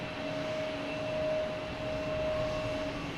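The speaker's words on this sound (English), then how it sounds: "Next takeoff is Swiss Air, an A330 heading to Zurich." A Swiss Air Airbus A330 takes off at Boston Logan with a steady, distant jet roar and a faint whine held throughout, rising slightly in the middle, with no voices.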